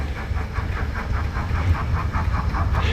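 An OO gauge model steam locomotive with DCC sound runs through a layout station, giving a steady rhythmic chuffing beat over a continuous mechanical rumble, close and fairly loud.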